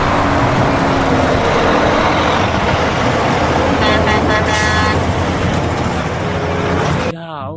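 A container truck's horn sounds over loud, dense roadway traffic, with a few short toots near the end before the noise cuts off.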